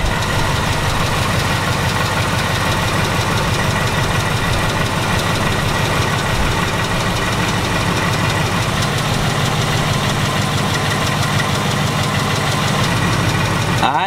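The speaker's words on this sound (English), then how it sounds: "the fuel injectors are extremely loud from the top of the engine here" A Ford Mustang engine idles loudly up close, with a steady rumble and rapid ticking from the fuel injectors, knocking clatter running throughout.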